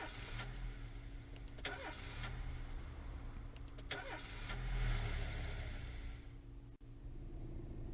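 A car engine in the police-management game This Is The Police starts and runs over steady low rumble, with a couple of brief mechanical clicks and a swell near the middle, and no talking.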